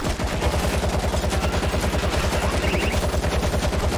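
A sentry gun in World War Z hammers out a fast, even stream of loud, close automatic shots that continue unbroken throughout.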